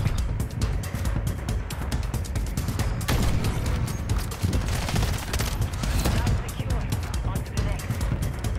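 Rapid video game gunfire from Modern Warfare 3 rattles in dense, continuous bursts throughout, loud and close, with a person's voice talking over it at times.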